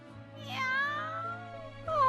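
A cartoon kitten from a children's fairy tale meows and cries in a long, wavering, tearful call, followed by another rising meow at the end, close and clear without talk.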